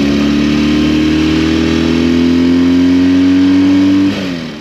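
A 1974 Laverda 750 SFC two-cylinder motorcycle engine revs loudly and steadily up close, with its pitch climbing slowly before it drops off sharply near the end.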